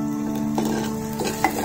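Chopped onion frying in a pan for pomfret kadi, with a steady close sizzle and a few scrapes of stirring, and no voices.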